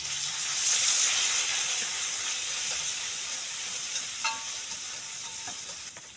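Spice paste for Indonesian opor ayam frying in hot oil in a wok gives a steady sizzling hiss that swells early and then settles, with a few faint clinks near the end.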